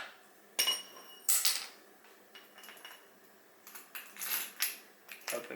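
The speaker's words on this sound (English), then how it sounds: "And slide out the axle." An axle slid out of a KX65 motorcycle wheel, with a few close metallic scrapes and clinks, scattered light knocks and a longer grinding slide near the end, fairly quiet.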